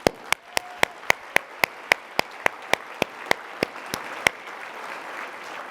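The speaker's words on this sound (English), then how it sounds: "Let's please have a round of applause for the DDI staff." At the 2023 Downtown Dallas annual meeting luncheon, crisp hand claps ring out in an even, steady rhythm. The clapping stays sparse rather than a dense crowd roar, and it thins and fades toward the end. Nobody speaks over it.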